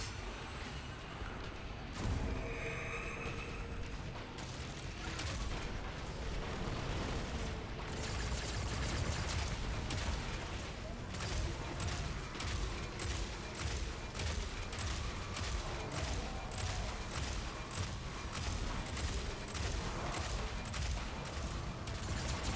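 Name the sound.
missile volley launching in a video game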